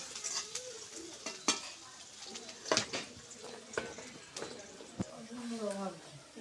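Sliced onions fry in oil in a wok, a faint sizzle with scraping stirs and clanks of the utensil, while a person talks over the cooking.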